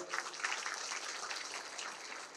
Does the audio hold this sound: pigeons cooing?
no